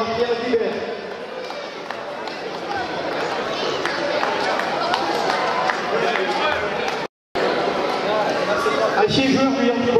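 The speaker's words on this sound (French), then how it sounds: "On applaudit bien fort le PSV Eindhoven." Applause for PSV Eindhoven at the closing ceremony of a U13 futsal world tournament in France, steady crowd clapping in an indoor hall under an announcer's voice, with a brief dropout partway through.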